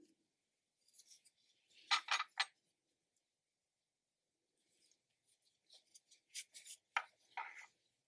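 Scissors snip through crochet yarn on a small flamingo pencil topper, a few short crisp cuts in two brief bursts separated by a quiet pause, close up with no talking.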